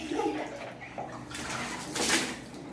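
Water poured from a bucket onto a child's back on a balcony by an inflatable pool, a splashing rush that swells near the end over a busy outdoor background.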